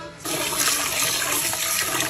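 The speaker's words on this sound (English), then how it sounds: "This first round of water, we discard it." Water used to rinse rice is poured off in a steady, close rush that continues for about two seconds after a quiet start.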